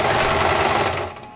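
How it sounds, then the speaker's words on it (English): A sewing machine stitches slowly around scrap fabric in circles for a bucket hat, a steady close mechanical whir and rapid needle chatter that cuts off abruptly. "I'm going to continue just going in circles and circles very slowly, using the presser foot as my guide"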